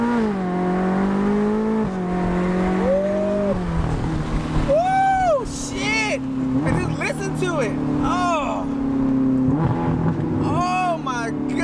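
A Ferrari engine drones steadily inside the cabin, rising and falling with sharp revving blips as the driver downshifts through the paddles, loud and close, with excited voices talking over it.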